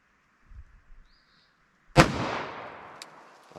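A single sharp gunshot from a Glock converted to fire 10mm 220 grain Buffalo Bore hard cast ammo, loud and close with a long ringing decay, preceded by faint handling clicks and followed by a small metallic clink.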